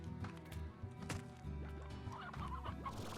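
Chickens in the video game Slime Rancher cluck and squawk in quick, quiet bursts, several calls overlapping in a short stretch with no talking.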